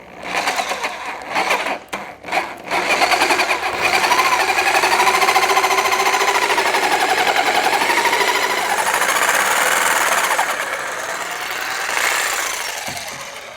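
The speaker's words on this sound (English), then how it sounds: "one of the things about cutting with a jigsaw like this is, if you can see here that the grain is running this direction" Jigsaw cutting a well-secured wooden lift for a half hull ship model, a loud, continuous buzzing saw with a few brief start-stop bursts at first, then a long steady cut close by, with no talking.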